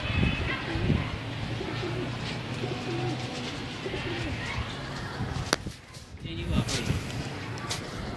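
Pigeons coo repeatedly in low, throaty rolls, close by, with a faint voice and some bird chatter in the background.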